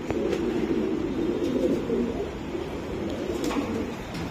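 Imported foreign racing pigeons in a loft coo steadily, a low continuous burbling from several birds close by, with faint background noise throughout.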